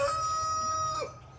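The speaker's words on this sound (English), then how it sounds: "The chickens, even though they're annoying when I'm trying to make a video" Chickens outdoors, with a rooster crowing in one sustained, clear call over a steady rural background, fading off near the end; no talking.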